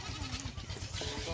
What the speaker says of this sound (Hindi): माशाल्लाह प्यारी बकरी है।